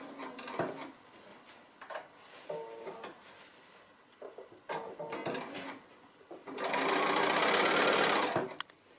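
A sewing machine stitches quilting along a border with a 1/4 inch foot, in short bursts with handling clicks, then a longer steady run of close, even stitching.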